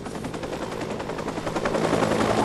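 Steady, loud rotor thumping of a helicopter in the video game Watch Dogs fills the scene, growing slightly louder, with rapid gunfire-like rattling mixed in.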